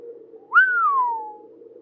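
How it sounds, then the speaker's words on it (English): A single human whistle rises sharply and then glides slowly downward, drawn out for about a second over a low steady hum. "let out a whistle of awe"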